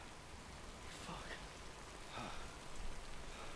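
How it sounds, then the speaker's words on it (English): Steady rain in the Death Stranding video game pours as a constant, soft hiss with light patter on surfaces, staying even and moderately faint throughout. "find shelter from the rain"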